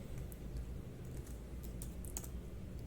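Faint typing on a computer keyboard: quick, irregular clicks and taps from the keys, soft and close, with no talking.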